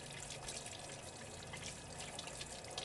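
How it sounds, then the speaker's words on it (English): Hands are washed under a running kitchen tap, a faint, steady trickle and splash of water with soft irregular spatters, no voices. "Wash your hands."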